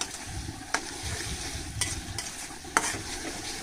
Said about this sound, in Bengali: তো তেলটা ভালো করে গরম হইলে তারপরে আমি বাগারটা দিয়ে দিব। বাগারটা দিয়ে দিচ্ছি